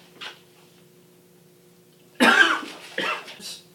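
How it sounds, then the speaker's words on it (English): A person coughs in a skit set in a doctor's consultation, first a faint brief cough, then after a pause a loud, harsh burst of coughs close by, with no talking. "How often have you been coughing?"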